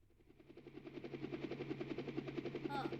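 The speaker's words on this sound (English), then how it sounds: "A helicopter?" A video game helicopter gives a steady, rhythmic rotor thump under an engine drone, growing slightly louder as it approaches, with no talking.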